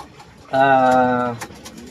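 One pigeon coo, close and steady for under a second, against faint background noise.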